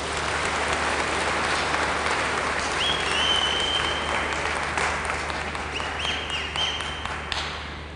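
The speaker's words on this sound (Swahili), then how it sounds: "Tuwapigie makofi." An audience at a Swahili-language public gathering applauds, dense continuous clapping from many hands that holds steady for several seconds, then thins slightly toward the end.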